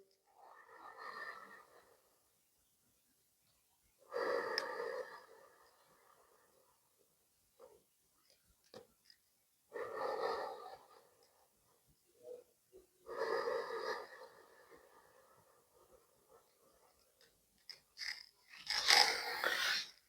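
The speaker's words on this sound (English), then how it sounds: "Couple more deep breaths here." Slow, deep breaths during a yoga stretch for athletes, four long airy inhale-exhale cycles spaced several seconds apart with silence between, close and clear, with no talking.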